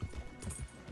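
Rhythmic clip-clop of horse hooves in Red Dead Redemption 2, a few quick steps at steady pace, fairly close and moderately loud with a faint background hum.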